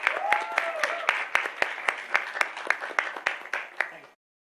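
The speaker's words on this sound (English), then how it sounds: "Now some real applause." Applause from a legislative meeting audience, a smallish group clapping steadily for about four seconds with distinct individual claps, then cutting off to silence.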